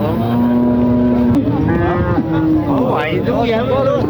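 A cow at a livestock market gives a long, loud, close moo that bends in pitch and trails off, followed by a second, rougher bellow, with market murmur underneath.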